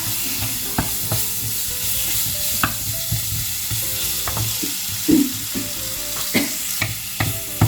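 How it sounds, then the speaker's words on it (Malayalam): Tomatoes sauté in a pan for palak paneer, a continuous close sizzle with repeated clacking and scraping stirs spread irregularly through it, a few louder knocks near the end and no voices. "തക്കാളിക്ക് നല്ലപോലെ ഇതിനകത്തൊന്ന് വേവണം. കുറുപ്പം നല്ലപോലെ ഒന്ന് വഴന്നൊന്ന് വേവണം."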